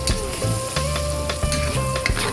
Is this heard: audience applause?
no